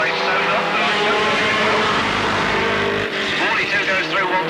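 Race cars roaring around the Alwalton track, engines loud and sustained as they pass close by, with a commentator talking over them throughout.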